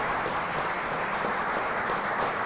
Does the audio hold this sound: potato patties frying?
no